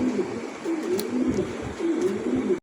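Pigeons coo repeatedly in low, throaty rolling calls at a pigeon farm, close by and steady, with a busy room murmur underneath.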